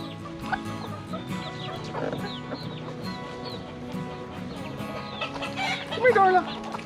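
Backyard chickens clucking close by in a steady murmur, with sharper squawks and a louder outburst near the end, and a voice faintly in the background.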